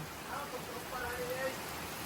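Soft, steady rain patter forms a faint wash of noise, with quiet voices murmuring underneath.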